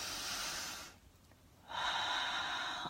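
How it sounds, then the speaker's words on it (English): A person takes a deep breath during a guided reflection: a long airy exhale, a short pause, then a strong inhale, close and clear with no talking. "and breathing in"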